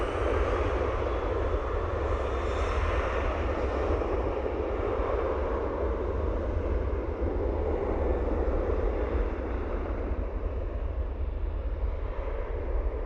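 A Ryanair airliner takes off at Dublin Airport, its jet engines a loud, steady roar with deep low rumble that holds throughout, with slight wind buffeting.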